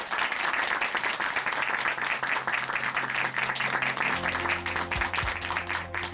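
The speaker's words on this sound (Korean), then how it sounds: "오늘 귀한 간증 들려주신 김남희 자매님께 다시 한번 박수 보내드릴게요." A church congregation applauding together, a steady, full wash of many hands clapping that carries on throughout without letting up.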